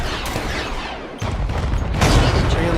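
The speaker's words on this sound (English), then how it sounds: "Enemies are shooting me." Enemy gunfire in the shooter Off The Grid rattles in dense, rapid bursts, loud and close, with a sharper volley near the end, and faint talk now and then underneath.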